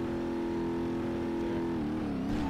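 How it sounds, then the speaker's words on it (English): Car engine in BeamNG.drive revving hard with the clutch down as a turbo spools, a steady loud droning tone that holds for about two seconds, then wavers and climbs near the end. "Clutch down, rev the engine, get it up to 35."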